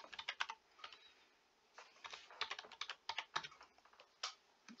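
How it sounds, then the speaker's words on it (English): Fingers type a username on a computer keyboard while setting up a Pokemon Online account, producing close, crisp keystrokes in quick irregular bursts separated by short pauses, with no talking. "So you basically type in your username."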